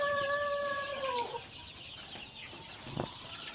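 Six-week-old Hy-Line Brown laying hens calling nearby: a drawn-out tonal call at first, then softer scattered clucks over a quiet background.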